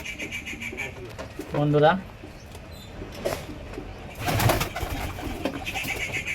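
Pigeons in a breeding setup of nesting pairs on eggs give soft, low coos in short bursts, faint and close, with rustling and someone speaking between them.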